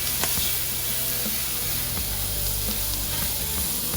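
Sweet corn fries in a cast iron skillet, giving a loud, steady close-up sizzle with bursts of stirring scrapes throughout, no talking.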